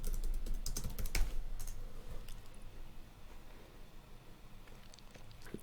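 Keys clatter on a computer keyboard in a quick burst of clicks, then thin out to sparse taps over a quiet room tone.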